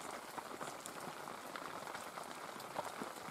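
Rain falling outdoors during a capercaillie hunt in the Komi forest, a soft, steady patter of many small drops on surfaces, faint and continuous with no voices.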